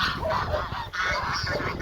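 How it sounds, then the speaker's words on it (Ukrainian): A flock of geese honks continuously and loudly nearby, overlapping calls with no pause. "Тут у нас гуси такі є противні."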